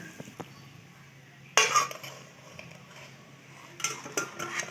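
Cooked vegetable stem curry is poured from a pot into a serving dish, with clattering metal scrapes and clinks of a ladle against cookware, louder in short bursts near and alone.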